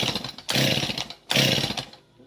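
Husqvarna 45 chainsaw with a ported engine, fired up in two loud bursts of revving separated by a short drop, close by with no talking, fading out at the end.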